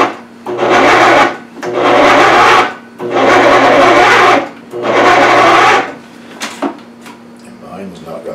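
Food processor mixing brioche dough, four loud bursts of motor whirring and rasping churning, each lasting about a second, separated by short pauses, followed by faint knocks.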